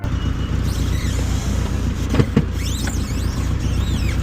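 A Peugeot RD car engine idles steadily and close by, a continuous low rumble with a brief mechanical knock or two partway through.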